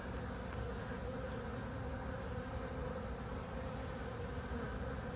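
Honeybees on the comb of a colony recombined after a swarm prevention split, during an oxalic acid treatment, make a steady, dense, close buzz that continues unbroken without talk.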